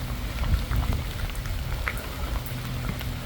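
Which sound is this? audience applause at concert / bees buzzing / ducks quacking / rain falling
rain falling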